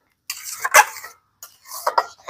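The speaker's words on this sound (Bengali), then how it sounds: "খুব ভালো করে সবকিছু নেড়েচেড়ে মিশিয়ে নিতে হবে।" A spoon scraping and clinking against a pan while mango pulp mixture is stirred, close and fairly loud in two short bursts with a pause between them.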